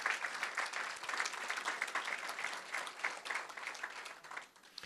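A lecture audience gives a round of applause for a university lecturer, a dense, continuous patter of many hands that holds steady and tapers slightly at the end.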